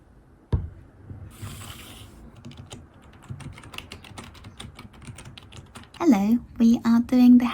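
Rapid, irregular clicking of keys on a computer keyboard, close up, with a thump early on and a voice speaking over the typing at the end.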